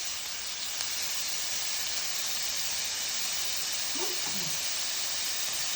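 Onions sweating in a pan for courgettes à la provençale give a steady, even hiss and sizzle, close and constant throughout with no talk.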